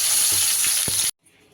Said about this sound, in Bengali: টমেটোটা একটু বেশ সুন্দর করে গলা গলা করে, মানে একদম নরম হয়ে যাওয়া অবধি ভালো করে নাড়াচাড়া করে ভেজে নেব